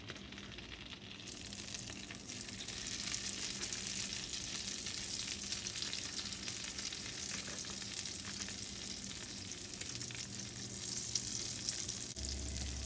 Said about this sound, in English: with the seam side down, we're going to put our little Blintzes in there